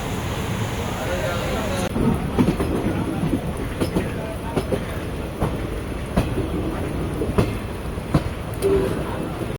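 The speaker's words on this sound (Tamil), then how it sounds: "நம்ம இந்த Chennai central Chennai beach circular train பார்த்தீங்கன்னா ஒரு 15 மினிட்ஸ் டிலேயில் சென்னை சென்ட்ரல்லேருந்து கிளம்பிடுச்சுங்க" Chennai Beach circular train pulling out of Chennai Central, a steady loud rumble with rhythmic clacking of wheels over rail joints throughout, close and continuous.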